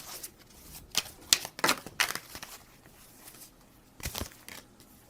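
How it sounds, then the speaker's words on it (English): Tarot cards are shuffled and drawn by hand in a few quick riffling bursts, with soft card slaps and rustles close by, then a pause before one more shuffle. "Now, I'm going to go ahead and take some more cards here."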